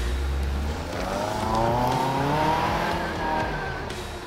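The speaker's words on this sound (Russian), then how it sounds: "Сейчас первый у нас УАЗ Патриот с блокировками." A UAZ Patriot off-road vehicle with locking differentials working over rough ground, its engine straining in a loud continuous drone that rises and falls in pitch, heard fairly close with no talking.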